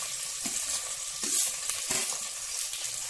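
Onions frying in hot oil for egg biryani produce a steady, close sizzle, broken by stirring scrapes and a few soft knocks from a spoon against the pan.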